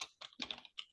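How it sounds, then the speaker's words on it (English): Quiet, close keystrokes on a computer keyboard come in a few quick clusters of light clicks within a second, with no talk. "So I'm just going to type David and then Rick"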